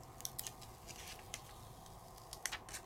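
Backing paper is peeled off a self-adhesive craft foam sheet, giving faint, close crinkling ticks and small crackles scattered across a quiet room.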